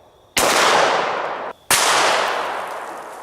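Two loud 9mm +P+ 147-grain full metal jacket gunshots fired outdoors at a stone, each a sharp crack followed by a long decaying echo, the second coming about a second after the first.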